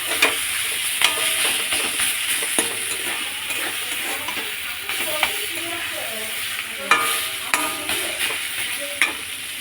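Leafy greens (saag) sizzle steadily as they cook in a pan, with scraping stirring strokes and occasional sharper clinks recurring through the hiss, close and moderately loud with no talking.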